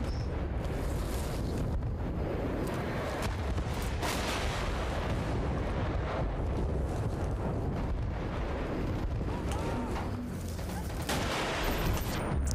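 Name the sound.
TNT explosion in the video game Battlefield Bad Company 2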